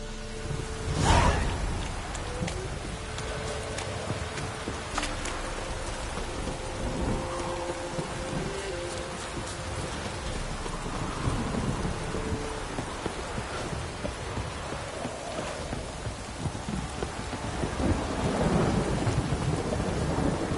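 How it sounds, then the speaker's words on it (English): A heavy downpour falls in The Witcher 3, opening with a sharp, loud thunderclap followed by low rolling rumbles over steady, hissing rain that swells again near the end. "This downpour's a bastard"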